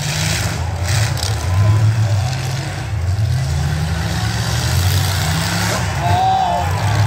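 Demolition derby cars at the Uxbridge Fall Fair revving and accelerating in loud, rising engine surges amid crowd noise, with a commentator talking over the roar.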